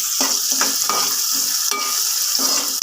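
Boiled and sun-dried prawns frying with ginger garlic paste in a pan, with a continuous loud, close sizzle and a series of rhythmic spatula scrapes and stirs across the pan.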